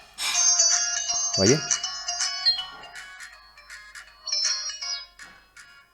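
A child's GPS smartwatch plays a bright, loud electronic ringtone melody of repeated rising chirps at close range, ending with a brief pause, while someone speaks briefly over it.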